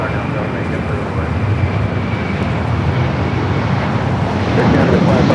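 A JetBlue airliner takes off from LAX runway 24 left as a loud, steady roar that swells slightly toward the end, with a thin whine over the broad rumble.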